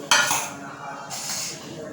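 Cut potatoes get rinsed again in a bowl of water, a splashing, clinking burst near the start followed by a second softer swish of water and dish sounds close by, with no talking.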